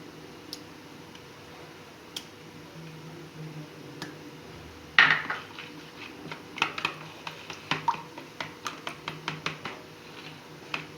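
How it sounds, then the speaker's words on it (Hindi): Tamarind chutney stirred into yogurt in a bowl makes soft, close clicks of a spoon. They are sparse at first, then turn into a quick, steady run of taps and wet squishes over a quiet background. "अब हम दही के अंदर इमली को ऐड करेंगे और इसको अच्छे से मिक्स करेंगे"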